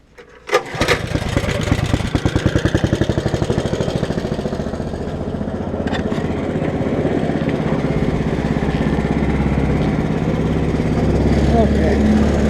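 A 1959 Case 700 tractor fitted with an 11hp Honda engine starts with a sharp catch, then runs steadily with a loud, close, chugging idle that holds and slightly rises in pitch, with a brief voice over it.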